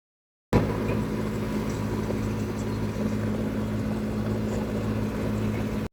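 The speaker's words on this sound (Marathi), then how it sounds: "आपण आलो आता ट्रॅक्टर घेऊन शेतामध्ये" A tractor driving into a field: a steady, close engine drone with a low rumbling hum runs without a break after a short silent start; no one talks.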